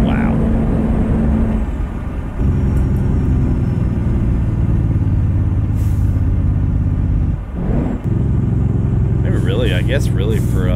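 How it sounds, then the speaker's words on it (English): A fleet truck's Jake brake in American Truck Simulator, a loud, steady, low engine-braking rumble that drones on with two brief dips and a few higher clattering tones near the end. "I guess really for a fleet truck, it's not a bad Jake, is it?"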